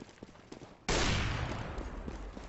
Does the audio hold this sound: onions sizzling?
no